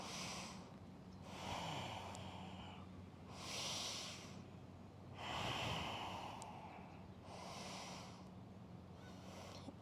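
Slow, audible breaths drawn in and pushed out while holding an Ashtanga yoga pose, about five deep cycles with a soft hiss on each, close and steady, with no talking.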